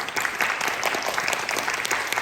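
Congregation applause at a church worship service, a dense steady clatter of many hands filling the room for about two seconds with no voices over it.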